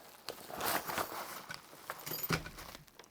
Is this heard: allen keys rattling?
yes